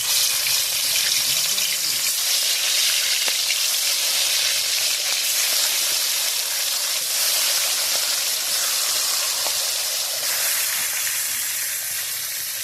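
Roti frying over a wood-fired clay stove, a steady broadband sizzle and hiss running continuously and fairly loud, with faint background voices underneath.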